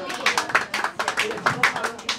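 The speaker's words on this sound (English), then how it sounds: "We give him a big applause to Mr. Zhang Fuming." At an Andrew Yang 2020 presidential campaign gala, the crowd claps for Mr. Zhang Fuming in quick, fairly rhythmic bursts. The clapping is close and moderately loud, and some voices mix in with it.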